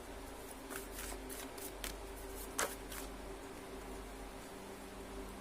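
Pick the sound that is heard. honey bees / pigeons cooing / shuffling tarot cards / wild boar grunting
shuffling tarot cards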